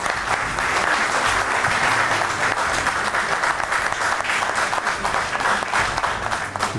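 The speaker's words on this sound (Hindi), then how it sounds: "आपकी ढेर सारी तालियों से" A large audience at an Eid mushaira applauds loudly, a dense, steady wash of clapping that runs throughout and fades slightly at the end.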